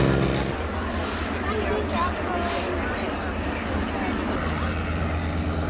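Training aircraft, fixed-wing and rotary, fly at the RAF Cosford Airshow 2018, giving a steady, loud engine drone across the whole stretch, with an outdoor crowd murmuring in the background.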